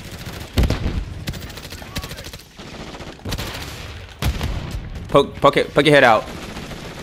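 Bursts of gunfire in a Call of Duty multiplayer match, several short volleys scattered through the clip, the heaviest near the end, mixed with a player's voice talking over them.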